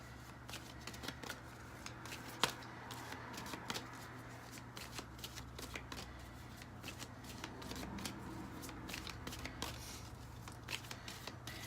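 Tarot cards are shuffled close up in a quiet room, a fast run of soft riffling flicks and taps continuing throughout at low volume.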